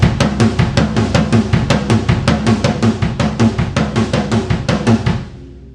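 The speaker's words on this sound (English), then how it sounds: "So let's try it out just playing the 5-3 between the floor tom and either your first or second tom" Drum kit played in a linear 5-3 pattern moving between floor tom and rack toms, a fast steady run of close, punchy strokes that stops and rings out at the end, no talking.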